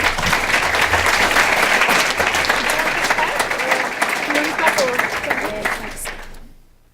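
Sustained applause from an audience at student presentations for a weapons and combat systems division, dense clapping with a few voices mixed in, holding steady before fading out at the end.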